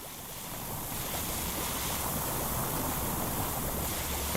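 Pressure washer in Powerwash Simulator 2 blasting water onto a soaped-up surface, a steady loud hissing spray that holds without a break from start to end.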